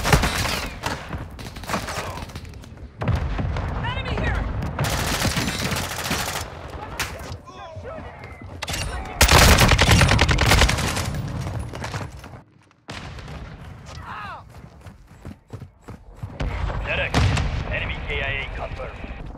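A battle in Call of Duty: Modern Warfare II erupts with loud, rapid gunfire, machine-gun bursts and heavy blasts, rising and falling in waves, with a brief lull before the shooting resumes under occasional voices.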